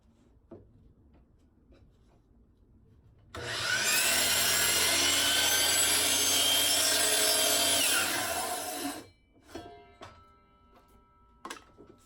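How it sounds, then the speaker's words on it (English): A saw cuts a 45-degree inside-corner bevel in crown molding, one loud continuous cut of about six seconds that ends abruptly, followed by a few sharp knocks and taps. "The first step in coping the crown molding is to cut the inside corner to 45 degrees."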